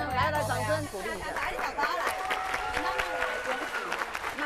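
An audience at a variety-show shoot in Hengchun claps in encouragement while people chatter and call out over it, applause blending with lively voices and babble throughout.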